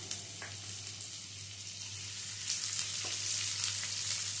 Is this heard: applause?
no